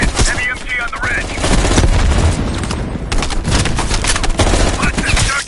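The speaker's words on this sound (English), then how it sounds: "Heavy MG on the ridge." Heavy machine gun fire from a ridge in Call of Duty: Cold War, loud continuous bursts mixed with booming explosions and battlefield noise.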